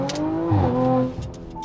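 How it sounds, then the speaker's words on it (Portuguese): An Audi RS5 Stage 2 roars while accelerating, a deep engine note rising in pitch then easing off, moderately loud inside or near the car, with brief faint crackles toward the end and no talk. "E o ronco é maravilhoso desse carro."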